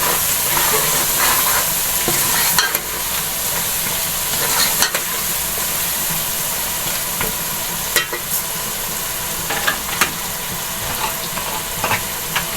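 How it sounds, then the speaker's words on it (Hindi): Steady sizzling and hissing of potatoes frying in a pan for chicken curry, with occasional scrapes and clicks of stirring, close and continuous. "आलूओं को मैं थोड़ी देर भून लूंगी।"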